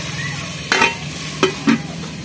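Masala spices frying in a pan, a soft continuous sizzle close by, broken by three quick scraping stirs of a spoon against the pan, with no talking.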